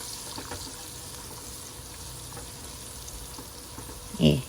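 Chopped carrot and bell pepper frying in oil left over from cooking eggs, a low steady sizzle close up, ending with a brief louder clatter.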